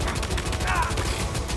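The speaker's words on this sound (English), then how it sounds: "Grenade launcher." Rapid explosive weapon fire from a grenade launcher in the PS5 video game Death Stranding 2: On The Beach, a dense run of loud blasts and bursts with a brief whooshing tone partway through.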